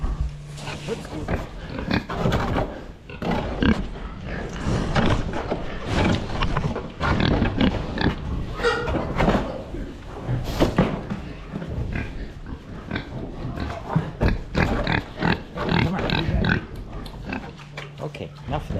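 A pig grunts and snorts repeatedly in a farm pen, loud and close, with dense overlapping rough vocal sounds throughout, while a person's voice talks over it.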